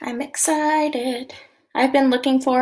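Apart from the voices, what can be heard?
No everyday noise stands out behind the speech.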